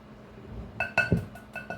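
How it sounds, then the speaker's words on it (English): Spoon stirring cornbread batter in a bowl, giving a few light clinks against the side, close and moderately soft, with faint kitchen background. "And we're just going to stir it up real good."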